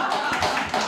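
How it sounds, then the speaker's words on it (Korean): Applause from a church congregation during a Sunday worship service: dense, steady clapping from many hands filling the whole short moment, fairly loud and even throughout. "박수."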